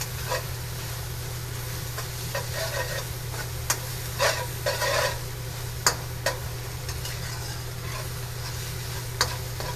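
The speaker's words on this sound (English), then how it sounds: "I'm going to keep stirring this because I don't want to burn it" Chili stirred in a frying pan for chicken pad thai, a low sizzle under scattered scraping and clinking taps of a utensil against the pan, moderately quiet throughout.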